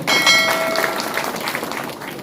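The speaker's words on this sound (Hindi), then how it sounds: "एक बार जोरदार तालियां" An audience at a town hall meeting in Banka, Bihar breaks into loud applause, a dense wash of clapping that fades slightly toward the end.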